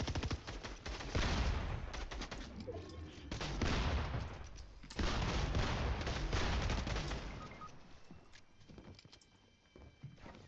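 Dense bursts of gunfire in the battle royale game Fortnite, rapid overlapping shots and heavier blasts in several volleys, loud and close, thinning out toward the end.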